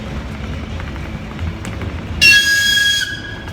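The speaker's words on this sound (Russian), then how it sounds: "Уже слышу звук поездов." Trains at a railway station: a steady rumble of rail traffic throughout, then a loud, sharp high-pitched squeal of brakes or wheels cuts in near the end and holds for about a second.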